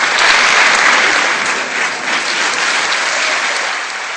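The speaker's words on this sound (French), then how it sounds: "Je voudrais qu'on applaudisse Billy." Dense, steady applause from an audience at a magic show fills the space, loud and continuous for a few seconds before easing slightly, with no voices over it.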